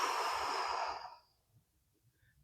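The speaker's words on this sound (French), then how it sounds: "inspirer jusqu'à 4 secondes à son rythme, de bloquer la respiration une seconde, et j'expire jusqu'à 4 secondes" A single slow exhale of breath during a guided meditation breathing exercise, a soft airy rush lasting about a second that trails off into near silence.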